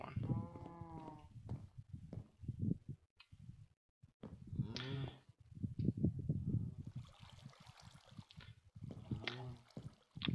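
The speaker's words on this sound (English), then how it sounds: "I'm wondering if all that mooing is from my moo fluid cows." Moo fluid cows in the Minecraft Sky Factory modpack moo repeatedly and loudly in bursts with short gaps, several overlapping calls, alongside a faint trickle of water in the game.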